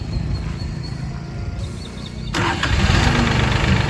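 A Yanmar Zoliz-26 four-wheel-drive compact tractor engine is started, cranking briefly before catching and settling into a louder steady idle that fills the rest of the moment.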